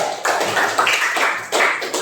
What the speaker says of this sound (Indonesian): Tepuk tangan kita ya.